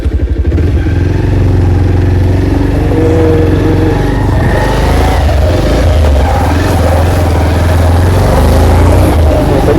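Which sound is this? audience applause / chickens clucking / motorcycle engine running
motorcycle engine running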